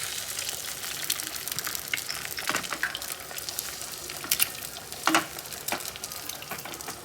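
Omelette cooking in a pan, a steady soft sizzle and crackle running throughout with a few brief louder pops, close by and without speech.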